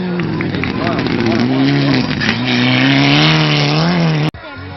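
A 4WD-class rally sprint race car, number 34, at the 2013 Otepää rahvasprint, roars close and loud with sustained engine revving and shifting pitch for about four seconds, cutting off abruptly near the end, with a voice talking faintly underneath.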